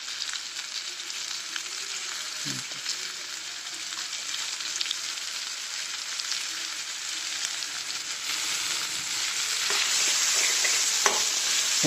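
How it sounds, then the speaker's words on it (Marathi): Tomato, potato and coconut vegetable curry frying in oil, a dense steady sizzle close up with occasional stirring scrapes, growing slightly louder toward the end. "चांगलं हलवून घेते ते टाकून चांगलं हलवून घ्यायचं"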